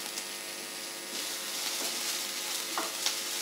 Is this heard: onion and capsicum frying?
yes